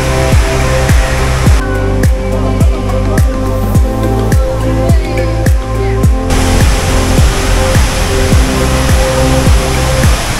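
Small indoor waterfalls at Changi Airport in Singapore pour in a loud, continuous rushing hiss, heard close and alone with a faint repeating pulse underneath.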